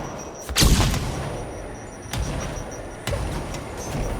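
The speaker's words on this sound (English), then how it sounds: "Throwing flashbang." A flashbang grenade thrown in a video game bursts in a loud, broad blast near the start, followed by two weaker thuds later on, all over a steady hissing game background.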